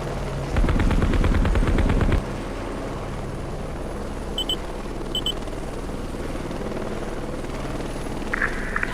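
Rapid burst of automatic gunfire in a combat video game, loud and close for about two seconds, then fading to a low engine-like drone with a few faint electronic beeps.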